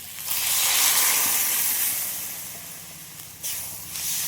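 Water poured into frying spices for a tilapia fish curry with plantain and potato, producing a loud broad hiss that swells, holds steady, then dips and surges again near the end.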